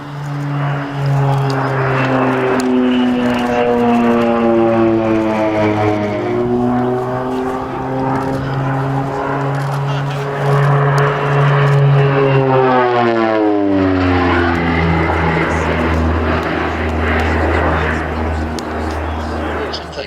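A propeller-driven counterinsurgency and forward air control aircraft flies at the Shuttleworth airshow, its loud engine drone holding steady for about 20 seconds, then sliding down in pitch as it passes. A voice may be faintly audible underneath.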